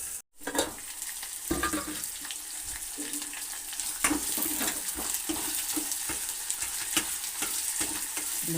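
Chopped onions sizzle steadily in hot oil as part of a tempering for sambar, a continuous close frying hiss broken by occasional stirring scrapes, with no voices.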